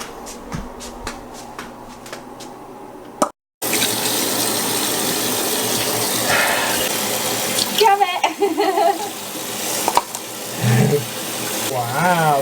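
Tap water gushes into a bathtub at a steady roar that follows a few clicks and a brief silence, and a voice talks over the filling.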